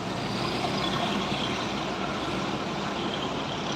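A heavy trailer truck with a 6x4 drive begins the climb up the steep Sitinjau Lauik mountain road, its engine a loud, steady, continuous rumble and roar with no voices over it.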